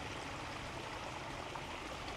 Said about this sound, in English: I love the little waterfall going to that pond running alongside here